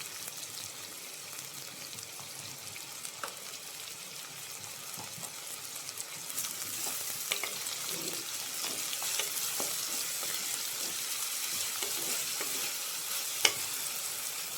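Onions sauté in a pan for a Kerala Easter fish curry, giving a steady, fairly quiet crackling sizzle with scattered small pops and occasional stirring, growing slightly denser midway.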